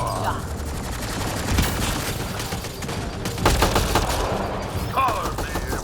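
Gunfire in the shooter game Mass Effect: Andromeda, a dense run of rapid shots and booms lasting throughout, loud and continuous, with voices speaking over the combat.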